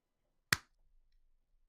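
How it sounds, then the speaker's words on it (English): A single sharp hand clap rings out alone in a quiet room, made as a sync marker while recording a video game podcast, followed by faint rustling. "and then do a clap like here"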